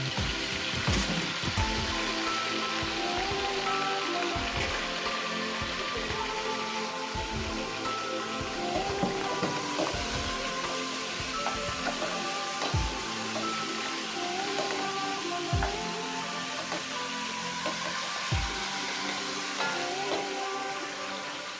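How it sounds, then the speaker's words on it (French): Pieces of beef browning in a pan with golden onions give a steady crackling sizzle, dotted with sharp pops and spatters throughout, close and fairly loud, with no talking. "je fais revenir à l'intérieur mes morceaux de viande et de bœuf que je vais laisser dorer quelques minutes"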